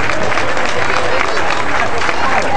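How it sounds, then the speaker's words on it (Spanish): An audience applauds a school's performance at a Mother's Day celebration, with dense, steady clapping and crowd noise filling the whole stretch. "les pido un fuerte aplauso por este número que presentó la escuela"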